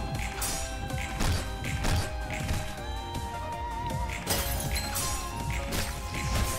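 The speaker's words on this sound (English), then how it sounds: "Not like someone just smashed the glass somewhere." Glass smashes in the video game Library of Ruina, repeated crashing bursts with ringing, tinkling debris layered over a sustained tonal backdrop, loud and recurring every second or so.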